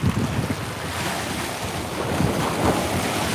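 Ocean surf rolls in at Coney Island beach at sunset, a steady wash of breaking waves mixed with heavy wind buffeting the microphone, loud and continuous without pauses.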